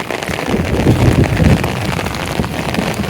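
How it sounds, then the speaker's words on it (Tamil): Heavy rain falls over a village near a lake as a steady, dense rushing wash with low rumble, continuous and fairly loud, with no voices. "ஆனால் இப்போ மழை வந்திருக்கு."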